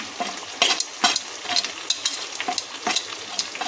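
Curry leaves and crushed chilies sizzle in hot oil in a frying pan for yellow potato sabzi, with a continuous close crackle and a steady run of scraping stirring strokes, no talk.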